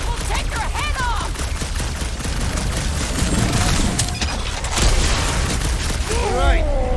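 Heavy cannon-like guns fire in the Guardians of the Galaxy video game amid chaotic combat, with repeated booming blasts and mechanical clatter that are loud and dense, while voices shout over the action.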